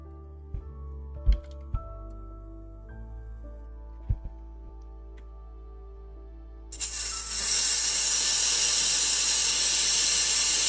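An airbrush used to paint miniatures starts with a few quiet clicks and knocks. Then a loud, steady hiss of paint spraying from its nozzle switches on abruptly and holds to the end, close and alone.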